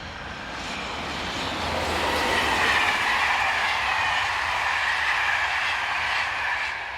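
A locomotive-hauled passenger train from Paris to Orléans in France rumbles past, swelling as it approaches and holding a steady roar with faint clicking wheels, then easing slightly as it continues by.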